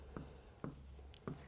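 A pen writing notes during a medical lecture, three short, faint scratchy strokes spaced about half a second apart over a quiet room hum.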